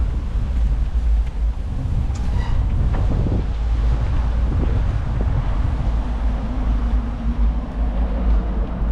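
Strong wind buffets the microphone in a steady, loud rumble throughout while cycling in Poltava, with a few faint higher scrapes drifting in and out.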